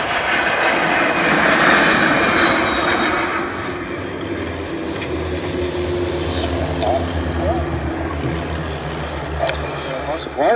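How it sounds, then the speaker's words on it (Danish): MiG-15 and de Havilland Vampire jets passing at the 2018 Danish air show, a loud engine roar that peaks early then fades to a lower drone, with a commentator talking over it. "MiG-15, efterfulgt af Vampires på begge sider."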